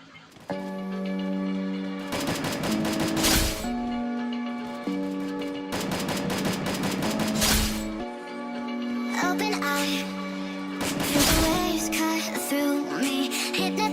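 Rapid bursts of gunfire from headshot highlights in the mobile shooter game Free Fire, arriving in three clusters over steady electronic background music.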